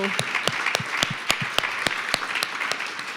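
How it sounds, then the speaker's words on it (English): A crowd applauds steadily, many hands clapping at once in a dense, continuous patter from a room full of people. "So a round of applause for all the mentors"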